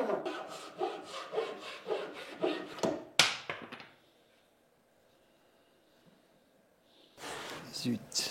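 A hand saw makes a five-degree cut in wood for a handmade ukulele: rapid, close rasping strokes for about three seconds, then near silence, and a short renewed burst of sawing at the end.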